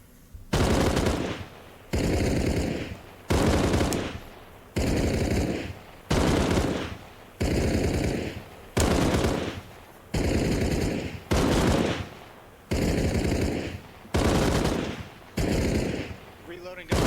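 Rifles fire in Arma Reforger during a range day for new recruits, delivering about fourteen loud, sustained bursts of automatic fire with short regular pauses between them, close and dominant.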